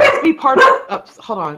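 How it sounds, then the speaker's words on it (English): A dog barks and yips in short bursts, mixed in with a person talking close by. "That's my dog's barking."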